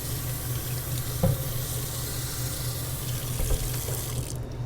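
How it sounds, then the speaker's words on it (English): Cold tap water runs steadily into a sink while the outside of a sealed milk container is rinsed, a constant splashing wash with a couple of brief knocks, ending abruptly. "And then wash off the outside of the milk with the cold water."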